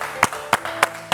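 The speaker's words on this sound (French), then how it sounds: "On applaudit aussi pour Charlène, s'il vous plaît" Four sharp, evenly spaced claps ring out from an audience applauding a woman named Charlène at a broadcast event in Koumassi, each one distinct over a low, steady hum.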